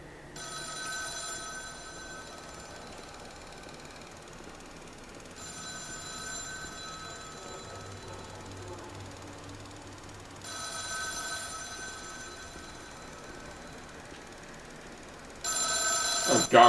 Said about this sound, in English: the phone's ringing this time